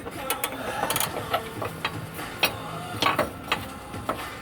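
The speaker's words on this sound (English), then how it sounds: "let's remove this bolt, this nut" A wrench works loose a bolt and nut on a Subaru Forester XT control arm, giving irregular close metallic clicks and taps with some faint breathing and background noise.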